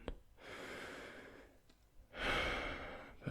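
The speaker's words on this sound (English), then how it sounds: "take a nice deep breath in" Patient taking a long, slow deep breath in during a medical exam, a close, soft airy inhale followed after a pause by a stronger, fuller breath.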